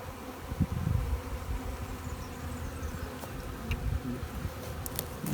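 Honeybees buzz around a hive with a steady, soft droning hum, close by and continuous, with occasional louder passes of individual bees.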